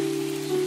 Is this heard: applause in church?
no